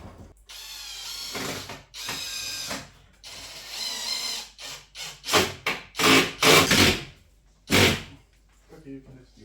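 Screws driven in during a French farmhouse kitchen renovation, with bursts of ratcheting clicks and mechanical whirring in uneven spurts, close by; a voice talks early on.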